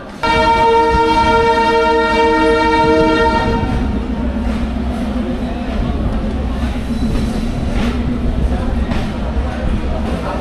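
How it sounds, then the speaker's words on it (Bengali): Dolonchapa passenger train sounds a long, loud horn blast at a railway crossing, then rumbles past close by with steady wheel and carriage noise to the end. "দোলন চাপা চলে এসেছে"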